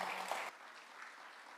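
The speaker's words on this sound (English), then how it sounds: "How about a round of applause?" Audience applauding after a presentation on RF coordination, a short burst of clapping that cuts off abruptly and leaves a faint room tail.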